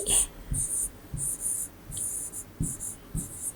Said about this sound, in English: So same way, if I write the example